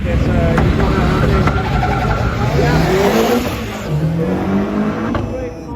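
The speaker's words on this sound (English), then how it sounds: "Great launch off the start, third gear, probably into fourth." A performance car launches hard off the start line at a motor festival in Coventry, engine roaring loud and close as it climbs through the gears with rising and dropping revs, crowd noise and a commentator's voice mixed underneath.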